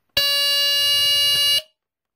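A BRK 3000 dual-sensor smoke detector sounds its horn alarm in one loud, steady, high-pitched blast lasting about a second and a half before it cuts off into silence.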